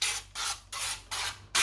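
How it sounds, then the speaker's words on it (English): Olive oil is sprayed into baking tins in four short, bright hissing bursts with brief pauses between them, close and fairly soft, with no talk. "I just use a little bit of olive oil, which I spray in there."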